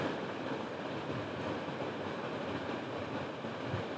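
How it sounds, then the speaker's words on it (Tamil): A mixer grinder grinds jackfruit ice cream ingredients into a fine paste, a steady dense whirring roar that holds at constant loudness throughout. "எல்லாத்தையுமே மிக்சி ஜாரில் சேர்த்தாச்சு இப்போ நல்லா ஃபைன் பேஸ்ட்டாக அரைச்சிடலாம்"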